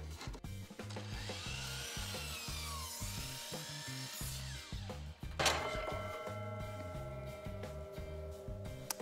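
A saw whines and rasps through a wooden board on a 45 degree bevel cut, a continuous close buzz with rhythmic low pulsing throughout, fairly quiet overall.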